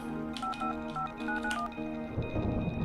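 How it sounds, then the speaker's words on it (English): Touch-tone phone keypad in a video game, a quick run of about eight short beeps in two clusters, followed by a burst of noisier sound. "So we will go Johanna and we'll go and call Larissa."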